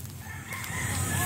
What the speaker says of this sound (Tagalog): yung mga manok na yan, kulay blue